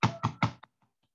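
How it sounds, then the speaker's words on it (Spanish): Three firm knocks on a door land in quick succession, close and loud, followed by a few faint trailing taps and then silence. "Otra vez, toca la puerta."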